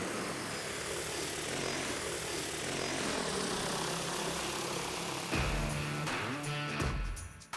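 A DJI Agras T50 agricultural spraying drone's propellers whir in a steady, loud drone, then the sound shifts and wavers near the end as the motors change pitch.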